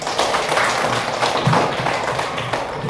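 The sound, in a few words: classroom applause for a student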